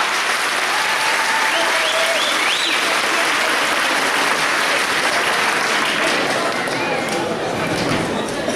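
Crowd at a cosplay contest applauding hard, a loud, unbroken roar of clapping that stays dense and even for the full stretch.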